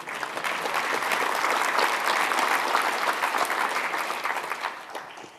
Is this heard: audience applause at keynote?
yes